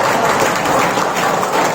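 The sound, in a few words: teachers clapping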